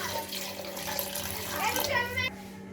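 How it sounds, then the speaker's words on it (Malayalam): Water pours into a cooking pot while making spicy chicken jollof rice, a steady splashing fill running throughout and ending abruptly near the close, with a faint voice beneath. "ഇതിലേക്ക് 1 കപ്പ് വെള്ളം നമുക്ക് ഒഴിച്ചു കൊടുക്കാം."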